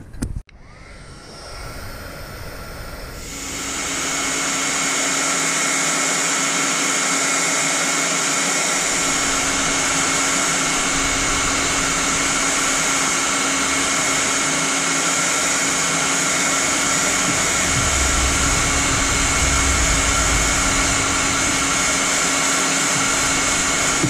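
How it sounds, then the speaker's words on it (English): A heat gun shrinks heat shrink tubing on glow plug controller cables for a Ford F-350 7.3 IDI diesel, a steady loud blowing roar that ramps up after a few seconds and holds without talking. "So I'm going to heat shrink these real quick."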